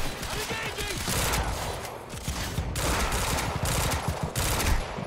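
Rapid pistol shots in the video game Quantum Break, a loud, continuous string of gunfire cracks with brief gaps, with no talk over it.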